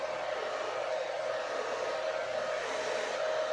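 A hair dryer on its lowest setting blow-drying curly hair straight gives a steady, continuous close-up whoosh with a constant motor whine, unbroken and even in loudness, with no talking.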